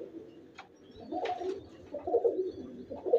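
Pigeons on a rooftop loft give low, throaty coos in a few short bursts, close by and moderately loud, with faint background noise and no talking.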